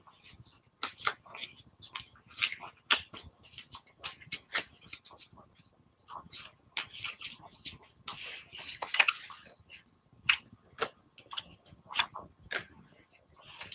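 Tarot cards are shuffled by hand in a long run of crisp, rapid flicks and riffling bursts, fairly close, with brief pauses and some quiet talk in between.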